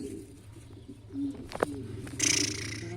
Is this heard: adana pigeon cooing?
yes